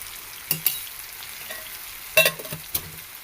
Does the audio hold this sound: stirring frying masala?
yes